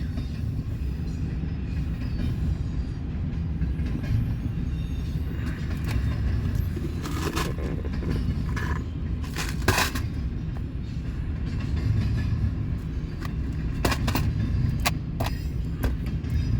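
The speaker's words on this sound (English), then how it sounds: "I'm sitting here in Fremont watching freight" A Norfolk Southern freight train rolls past in Fremont with a constant low rumble and clanking wheels, while occasional squeals and clicks rise over the steady roar.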